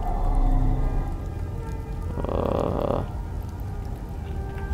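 Steady rain falls on surfaces in the video game Hell Is Us, a continuous close patter with a low rumble underneath and a brief brighter surge partway through.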